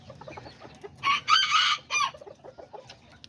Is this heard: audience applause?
no